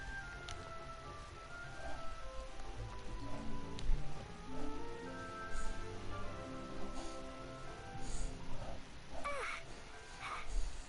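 Birds call repeatedly in Genshin Impact, crow-like caws that come and go over a steady ambient bed of soft rustling and rain-like noise, moderately distant, with no one speaking.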